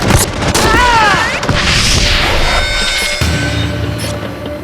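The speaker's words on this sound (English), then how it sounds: "For 30 minutes, they exchange fire with the terrorists." Gunfire exchanged between police and terrorists at an airport near Munich, heard as a dense burst of booming shots and crashing impacts, loud and close, with whistling tones drifting over a busy background.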